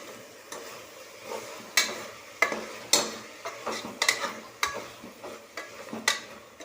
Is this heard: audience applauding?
no